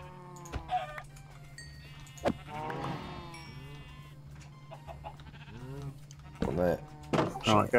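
Several sheep in the Minecraft video game bleat in short, wavering calls, some near and some quieter, spread across the moment with louder bleats clustering at the end.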